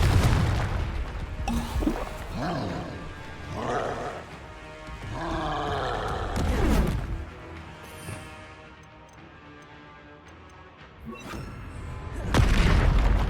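Confringo fire spells go off in the Hogwarts Legacy video game, several booming blasts with roaring rumbles and crashing debris, loud and close, with a short quieter stretch before a final burst.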